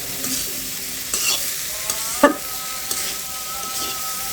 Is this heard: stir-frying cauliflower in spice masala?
yes